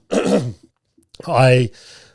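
A single throat-clearing cough up close, then a short pause and a sharper, louder cough.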